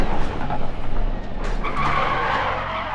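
A rally car in the Dirt Rally video game skids out of control, with a loud, continuous gravelly slide of tires and a revving engine, and a high tire squeal rising near the end.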